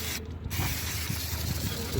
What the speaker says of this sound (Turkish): Bunu balata spreyiyle güzelce temizliyoruz.